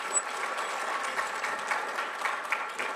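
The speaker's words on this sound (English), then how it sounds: "applaud this guy" An audience applauds a man who has hauled the Alamo cannon around, a steady wash of dense clapping throughout, fairly loud and close, with no voices over it.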